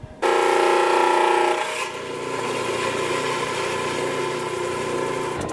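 Machine cutting dinosaur bone into slabs: a loud, steady grinding whir with a rasping edge that drops in pitch and intensity after a couple of seconds, then continues as a softer, even hum.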